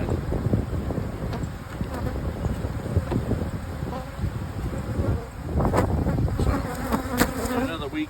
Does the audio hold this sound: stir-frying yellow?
no